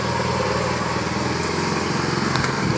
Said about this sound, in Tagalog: Medyo maingay yung pedicab.